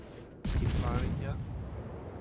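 A heavy naval gun salvo booms out in the World of Warships game, firing from the Z46 destroyer, a sudden loud blast that rumbles and slowly fades over about two seconds.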